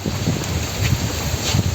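Strong wind gusts outdoors at a birthday party at Luntiang Republika, a steady broadband roar buffeting the microphone with low rumbling surges throughout.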